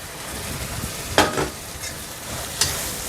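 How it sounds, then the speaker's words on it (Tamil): Coconut and tomato for a mixed chutney sautéing in a pan, with a soft steady sizzle broken by a few quick scraping stirs of a spoon, close up. "தேங்காய் போட்டு ஒரு நிமிஷம் அப்படி கிண்டி விடுங்க அது கொஞ்சம் வதங்கினதுக்கப்புறம்"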